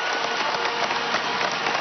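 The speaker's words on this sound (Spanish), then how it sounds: "Quiero que le demos un aplauso a la nueva PDVSA," Brief, steady applause from a large audience at a political graduation ceremony, an even patter of many hands clapping at once without any distinct voices.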